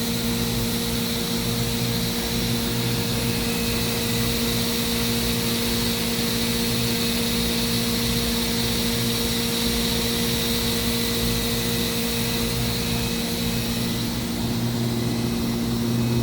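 A 2013 Mazak HCN 4000 Mark III horizontal machining center spindle runs at its maximum 14,000 RPM under light load, giving a steady, loud whine with constant tones and a broad airy hiss that holds unchanged throughout, with no talking.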